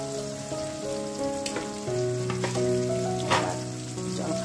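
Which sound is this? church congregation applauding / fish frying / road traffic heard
fish frying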